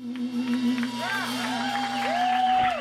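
Crowd cheering and applauding at a Nashville live music night for a touring country band, a continuous mix of whoops and clapping with a sustained tone underneath, fairly close.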